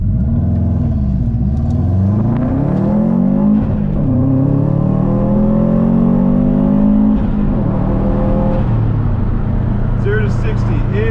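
A moped engine revs loudly close by through a 0 to 60 acceleration run, its pitch climbing and dropping as it shifts. The engine drones continuously for the whole stretch.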